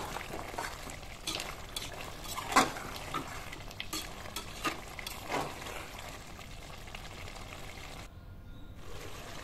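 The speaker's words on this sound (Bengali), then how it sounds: "এখন ভালো মতো একটু কষিয়ে নিব, অল্প একটু পানি দিয়ে দিলাম, এখন বেশ কিছুক্ষণ কষিয়ে নিব" Meat sautéed in a pan with a splash of water, bubbling and sizzling softly while a utensil scrapes and knocks against the pan in frequent, irregular strokes, close and unaccompanied by speech.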